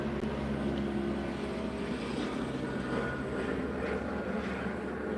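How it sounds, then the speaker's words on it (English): A steady low rumble of a helicopter flying somewhere outside, continuous and fairly distant, with no talking. "I hear a helicopter outside."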